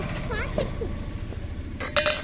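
Metal utensils clinking against a vessel while sharbat sweetened with jaggery is stirred, a few light scrapes and clinks, the sharpest cluster near the end, with a voice faintly in the background.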